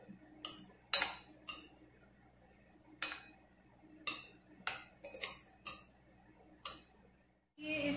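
A spoon clinks and scrapes against a bowl while mixing koshimbir salad with fresh coriander and lemon juice, a series of sharp, close, irregular taps in a quiet kitchen.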